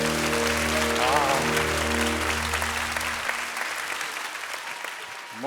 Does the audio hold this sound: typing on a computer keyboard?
no